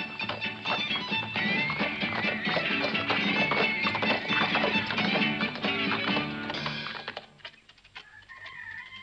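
Horse hooves clip-clop in a western scene, a dense run of sharp, close hoof strikes on hard ground that continues for several seconds before thinning out and fading.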